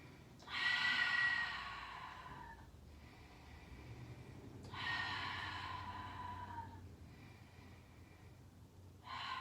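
Slow, deep breaths during yoga practice in a crown chakra session: two long, breathy exhales with a pause between, fairly close and soft, followed by a shorter breath at the end.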